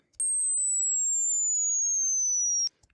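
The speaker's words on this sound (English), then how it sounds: "we can apply again the reverse so that I can hear it backwards." A single steady sine tone, reversed in SpectraLayers 11 audio editing software, glides slowly downward for about two and a half seconds. It sounds alone and starts and stops abruptly, with brief faint clicks at each end.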